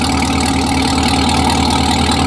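Close and loud, the idling engine of a Camaro ZL1 tuned to 750 horsepower churns out a dense, even rumble with a rapid pulsing undertone that never lets up, heard with no speech.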